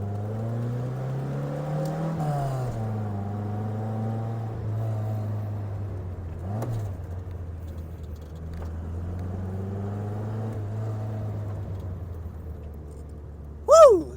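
A car engine hums steadily at low revs as it drives, pitch rising and falling slightly with gear changes, ending in a brief louder burst.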